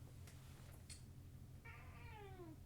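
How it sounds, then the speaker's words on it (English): A house cat meows once, a drawn-out falling cry heard faintly over a steady low hum, with no one speaking. "my cat as well, who is meowing incessantly"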